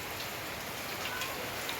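Steady rain falls outside a house, a dense, even wash of patter with no voices, soft and continuous throughout.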